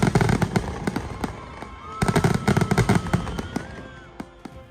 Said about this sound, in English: the fireworks finale did not disappoint